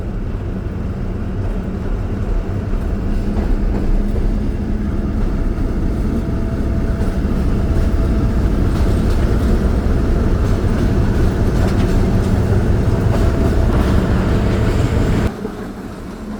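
The 129 Up Thal Express passenger train runs with a loud, continuous rumble and rattle of wheels on track, heard steadily from the cab at night, dropping slightly at the end.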